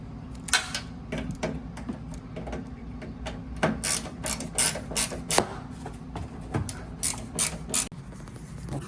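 Rapid ratcheting clicks and metallic ticks from a tool tightening the top bolts on a Whirlpool Duet washing machine door lock panel, in steady close bursts with light handling clatter.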